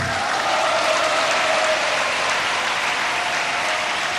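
Sustained applause from a large audience at a Jain religious discourse by Muni Sudhasagar Ji, a dense, steady wash of clapping filling the whole stretch at close, even loudness.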